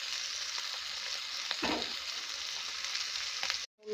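Egg dropped into hot oil with fried spices in a pan sizzles steadily, a brief louder burst as it hits, then the frying cuts off abruptly near the end.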